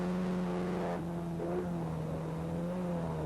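A production race car from a 1988 championship round accelerates under full power, its engine a steady droning whine that rises slightly in pitch, heard close and continuous without talk.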